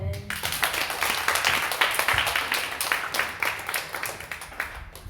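A church congregation at a Sunday afternoon service claps in a loose, uneven patter, individual hand claps distinct within a modest, nearby burst that carries on steadily.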